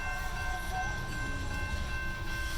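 A CSX freight train with two locomotives and a distributed power unit rolls past nearby, a steady low rumble of wheels and cars with faint tonal ringing across the short stretch.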